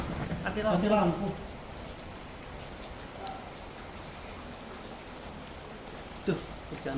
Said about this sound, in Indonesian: Tuh, hujan belum selesai lagi.